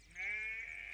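A single sheep bleats once, a fairly clear sustained wavering call at moderate distance on a farm, with no talking over it.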